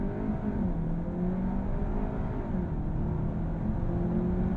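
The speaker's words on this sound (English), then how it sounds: "Holding my foot on the brake, pinning the throttle," A 2024 Volkswagen Arteon's engine revving hard on a brake-held launch and accelerating, a loud continuous drone with rising pitch heard up close, no talking.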